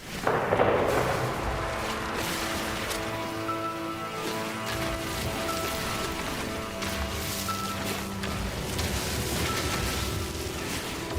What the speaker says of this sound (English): Yeah, fireworks during the daytime.